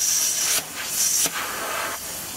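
The air suspension leveling valve on a Volvo VNL 780 truck exhausts air in loud, close hissing bursts, two strong surges followed by a weaker, trailing hiss.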